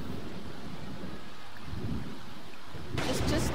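Thunderstorm in the Sims 4 video game, steady rain with low rumbling, then a sudden louder crack of thunder near the end.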